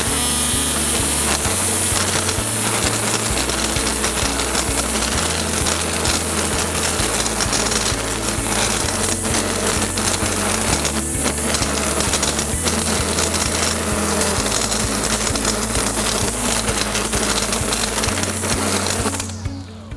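A cordless 40 V battery string trimmer runs continuously at close range, a loud, steady whine with a harsh, gritty edge from cutting, cutting off abruptly at the end.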